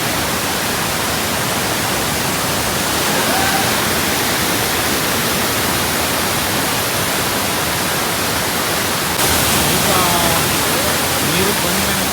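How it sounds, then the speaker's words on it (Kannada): The Bangara Kusuma waterfall near Gerusoppa, Honnavar, roars with a dense, unbroken wash of falling water, loud and steady throughout, with no break in the torrent. "ನೋಡಿದ್ದು ಜಲಧಾರೆ."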